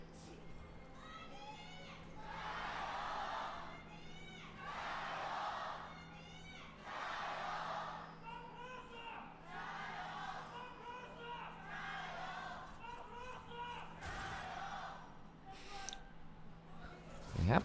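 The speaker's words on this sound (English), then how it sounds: "Let's listen to the crowd for a second" Crowd cheering at an LPL esports match between FPX and NIP in an arena, waves of roaring and shrill whoops swelling and fading over a steady hum, with a voice speaking over parts of it.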